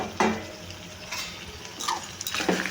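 Goat head meat curry tipped into a pan and stirred, with faint scraping and a few soft metallic knocks of the spoon against the pan, alone and close.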